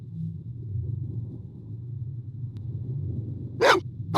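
Maggie, a dog in the video game Blade Runner, gives one short bark near the end over a low, steady rumble.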